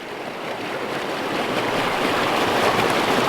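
Creek water pours steadily over and through a rock dam, a continuous broad rushing wash that swells slightly louder over a few seconds, close to the microphone with no talk.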